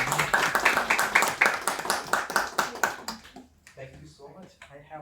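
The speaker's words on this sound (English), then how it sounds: "So a huge round of applause." A Toastmasters meeting audience gives a crisp, rhythmic round of clapping at a farewell session. It sounds close and fairly loud for about three seconds, then quickly thins to scattered claps as a voice begins speaking.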